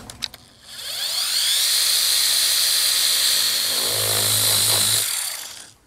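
A dual action polisher with a microfiber pad runs steadily on a BMW G80 M3, a continuous high whirring drone lasting several seconds before spinning down.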